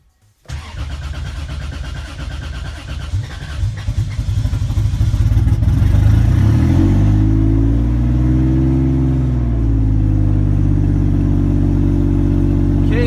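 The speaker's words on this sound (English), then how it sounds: "we're gonna try and start this thing up and check to see if the oil leaks or doesn't leak" A turbocharged Lexus IS300 cranks briefly after a moment of silence, then fires and rises into a loud, throaty run, its revs climbing before settling into a deep, steady rumbling idle close by.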